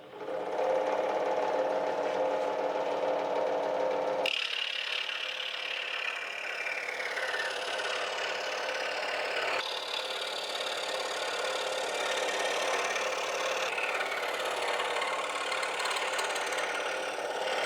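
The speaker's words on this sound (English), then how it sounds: "So we're going to do this on the scroll saw where I can get a little tighter to the original body" A scroll saw trims a koa wood headstock veneer on a nearly finished guitar neck, a steady high buzzing cut that starts abruptly and runs continuously for the whole stretch, close and fairly quiet, with no talk.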